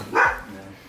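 A dog gives a single sharp bark, close and loud, cutting in briefly during casual talk around a BMW E92 M3.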